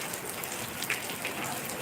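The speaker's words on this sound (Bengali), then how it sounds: "আজকে বৃষ্টি আর বৃষ্টি প্রচুর পরিমাণে বৃষ্টি হচ্ছে" Heavy rain pours down steadily on surfaces during a hot spell's end, a dense continuous hiss of drops with no voices, close and even throughout.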